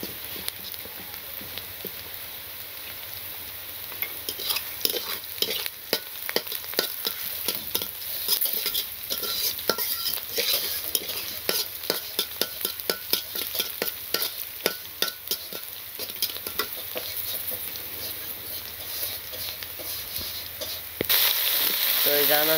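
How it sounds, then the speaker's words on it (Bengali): Onion and green chili for a curry base fry in a pan in a village kitchen, giving a steady close sizzle broken by rapid repeated scraping and stirring strokes throughout. "এখন একটু ভাজা ভাজা করবো"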